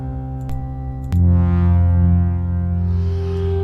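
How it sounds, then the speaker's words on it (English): A sustained synth pad drones with layered tones and a long reverb tail, swelling slightly after a couple of soft clicks near the start. "it has its own built-in reverb"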